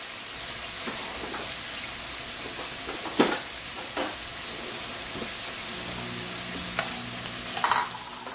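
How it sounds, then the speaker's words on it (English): Hamburger filling sautés in a pan with red wine cooking off. It gives a steady, soft sizzle, with a few clicks as a utensil stirs and scrapes. "Just saute it a little bit till the wine evaporates from it."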